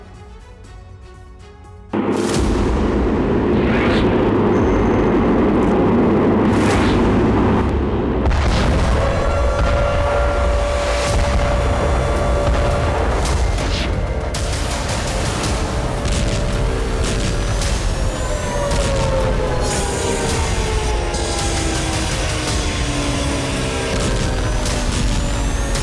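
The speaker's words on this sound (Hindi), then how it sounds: "आसमान से ताबड़तोड़ अंदाज में मिसाइलों से प्रहार।" Missile strikes and explosions in war news footage: heavy booms and a continuous loud rumble, with crackling blasts layered throughout and no speech.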